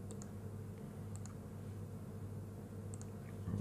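Three quiet computer-mouse double-clicks, each a crisp pair of ticks, spaced out over a steady low electrical hum while working in structural design software for cold-formed steel framing.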